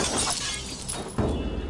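Glass shatters loudly in Assassin's Creed Valhalla, a broad crashing burst followed by a second sharp break with scattering shards, heard alone without talk.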